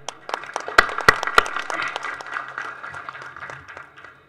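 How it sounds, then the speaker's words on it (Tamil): An audience claps at a film audio launch event, starting with a few sharp, distinct claps that grow into a moderate round of applause before slowly tapering off, with no speech over it. "நல்லா கரகோஷம் கொடுங்க."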